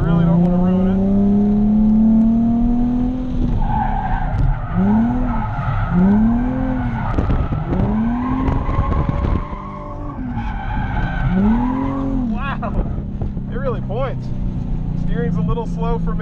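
A Nissan 370Z with a viscous limited-slip differential drifts, its engine revving loudly and rising and falling in pitch. Repeated bursts of tire squeal and skidding come from close by, continuous throughout.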